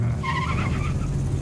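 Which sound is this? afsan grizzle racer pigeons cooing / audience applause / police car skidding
police car skidding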